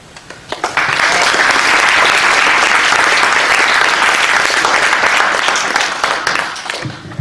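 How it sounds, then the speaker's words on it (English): An audience breaks into loud, dense applause that holds steady for several seconds and then tapers off at the end. "one more round of applause for Marju"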